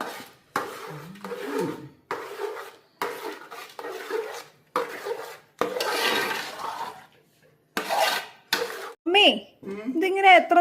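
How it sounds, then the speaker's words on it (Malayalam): Food is stirred in a pan with a utensil, giving loud bursts of scraping and clattering broken by short pauses, with voices talking near the end. "ഞാൻ ഇളക്കാം"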